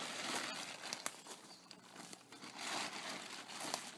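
A tarp is folded in half outdoors, giving a faint, continuous plastic crinkling and rustling with a few small crisp snaps.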